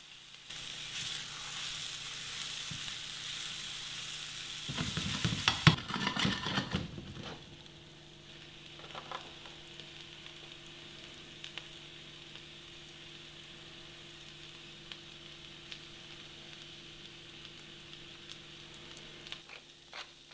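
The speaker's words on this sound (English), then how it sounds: "So this is dry roasting." Rice dry-roasts in a pan for mushroom risotto, a bright sizzling hiss that swells into a loud stirred burst of crackling, then settles to a faint quiet sizzle for the rest.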